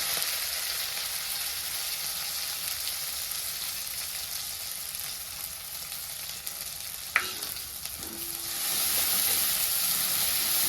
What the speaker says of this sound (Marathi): तेल आपलं चांगलं तापलंय तर फोडणीसाठी जिरी टाकले एक चमचा मोहरी एक चमचा कढीपाल्याची पानं